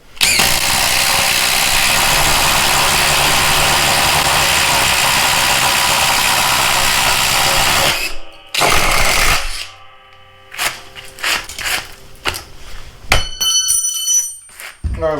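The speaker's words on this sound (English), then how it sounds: "Alright, we got a 1-inch spade bit. We're gonna do a hole right here." DeWalt DCF840 20V MAX impact driver boring a hole with a 1-inch spade bit, a loud continuous whirring drive for about eight seconds before cutting out, followed by short bursts and clatter.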